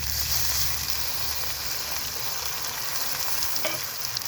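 Ash gourd being stir-fried in a pan, a dense continuous sizzle with steady stirring noise filling the whole stretch, close and even in level, with a few brief utensil knocks near the end.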